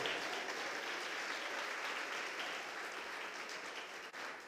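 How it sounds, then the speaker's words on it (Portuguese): A church congregation applauds during a sermon, a sustained wash of many hands clapping, even and fairly distant, with no talking over it. "Você pode aplaudir o nome do Deus eterno?"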